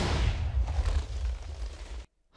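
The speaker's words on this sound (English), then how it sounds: "Explosion!" Explosion in the Minecraft video game during a roleplay session, a loud broadband blast with heavy low rumble sustained for about two seconds before cutting off abruptly to silence.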